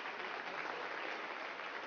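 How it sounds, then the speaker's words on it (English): Audience applause fills a sports awards ceremony in Nigeria, a steady, even wash of clapping from a crowd, fairly distant and soft, lasting the full two seconds without voices. "Please, once again, a round of applause."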